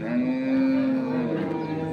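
A young dairy cow of a local breed, with her calf at a rural cattle market, gives one long, loud moo lasting over a second close by, followed by fainter market background.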